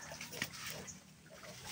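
A pig grunting in a farm pen, a sow that gave birth a month earlier; short low snorts and grunts close by, with a sharper squeal-like burst near the middle of the brief clip.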